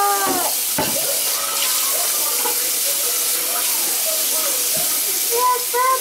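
Tap water runs steadily into a sink while a child's hands are washed after a trip to the park, a continuous near hiss with a voice and an adult talking over it.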